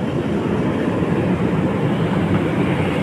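A train with new wagons rolls past in the Lawton area, giving a loud, steady rumble and roar that holds for the whole stretch without any speech.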